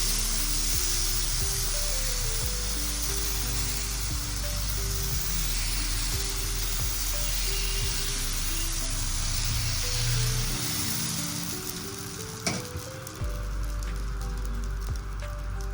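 Ragi dosa batter spread on a hot pan gives a loud, steady sizzling hiss that fills the whole stretch, with a low tonal hum beneath and a brief clatter near the end.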